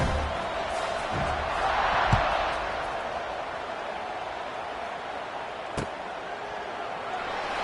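A football stadium crowd keeps up a steady, diffuse roar after a score late in a one-point game, with a few faint thuds in the wash.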